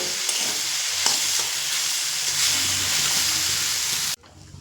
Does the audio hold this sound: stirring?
yes